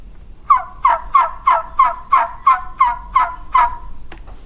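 A live turkey hen yelps in a clear, loud series of about ten evenly spaced calls at a quick, steady cadence, ending with a brief click, with no talking.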